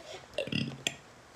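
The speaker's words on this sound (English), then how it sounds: "I burped when I was saying it." A single short, close burp from a person, brief and fairly quiet, with no talk over it.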